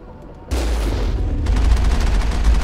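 In the Mass Effect video game, the Mako vehicle's cannon fires a sudden loud blast that cuts in abruptly, then a second heavy burst follows about a second later, both booming over a rumbling low background.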